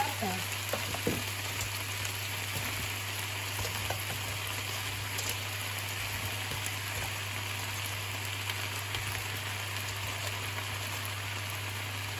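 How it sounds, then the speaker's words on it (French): Sliced potatoes and endives sizzle steadily in a hot pan, a continuous close frying crackle with occasional soft scrapes as the mixture is stirred, under a low constant hum. "On va remuer tout ça."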